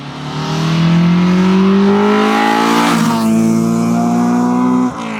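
A Honda Civic EJ9 with a B18 engine revs hard toward 9,000 RPM, its loud, steadily climbing howl sustained for several seconds before it abruptly drops off.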